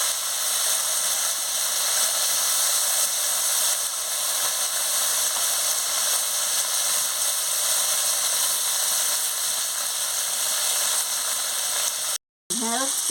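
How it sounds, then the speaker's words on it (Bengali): Okra frying in a pan for an okra and potato curry, a steady broadband sizzle and hiss running continuously at close range, cut off abruptly near the end. "ঢ্যাঁড়সটাকে একটু ভালো করে ভেজে নেব"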